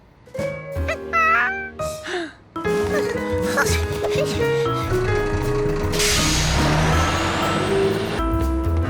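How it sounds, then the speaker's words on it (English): A garbage truck in the cartoon Curious George rumbles close by and lets out a loud, sustained hiss of air brakes after some brief voices and chatter. "the garbage truck came"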